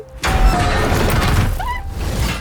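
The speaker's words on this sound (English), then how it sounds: "Desperately, Jean smashes a window and tries to pull him out" A car window is smashed, a loud close burst of shattering glass and crashing debris that lasts a couple of seconds before thinning out.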